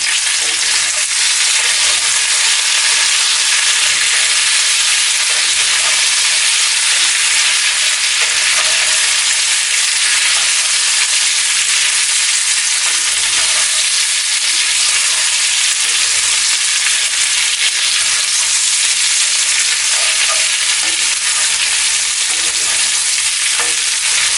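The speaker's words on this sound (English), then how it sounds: "now we're going to toss the potatoes in as well" Potatoes fry in a hot pan for a farmer's breakfast, giving a loud, steady, close sizzle that hardly varies throughout, with no talking.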